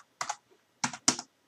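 Keys on a computer keyboard are typed at close range in three quick bursts with short pauses between them, entering a ping command on a networking setup. No one speaks over the typing.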